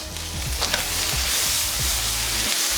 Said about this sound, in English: we're gonna pop these guys in the pan with the butter and cook them again